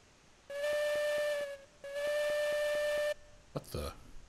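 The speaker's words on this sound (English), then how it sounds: "there's a popping sound in the whistle now" Two long blasts of a steam locomotive whistle in the video game Railroads Online, each with a rapid popping flutter through it, followed by a short burst of hissing steam.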